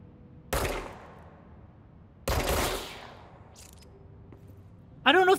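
Gunshots in the video game Control, two loud sharp blasts about two seconds apart with decaying tails, followed by a brief burst near the end.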